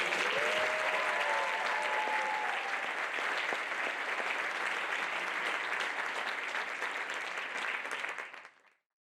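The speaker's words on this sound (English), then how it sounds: "let's give a little bit more applause to the members of the class of 2025" Sustained, dense applause from an audience at a Doctor of Physical Therapy white coat ceremony honoring the graduating class, steady and full for several seconds before fading to silence, with a brief voice early on.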